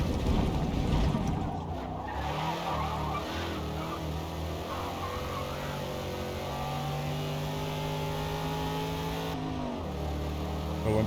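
Engine note of a car in Forza Motorsport rising and falling as it accelerates out of corners, a steady loud drone with sweeping pitch changes and brief revving, no voices.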